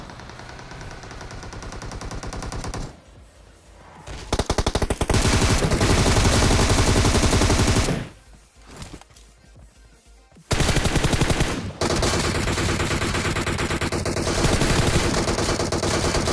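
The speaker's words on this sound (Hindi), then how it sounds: "मेरे को फायरिंग की साउंड आते हैं" Loud bursts of automatic rifle fire in the battle royale game PUBG on the Erangel 2.0 map, with long sustained volleys broken by brief pauses and near, heavy shooting throughout.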